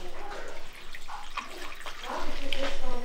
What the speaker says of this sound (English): now the water, we're going to add 300 grams of water to this